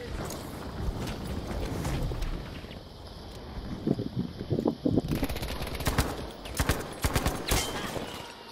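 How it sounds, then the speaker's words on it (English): An MG42 machine gun in Battlefield V rattles out in rapid, hammering bursts, near and fairly loud, amid other scattered gunfire and a constant battlefield noise bed. "MG42."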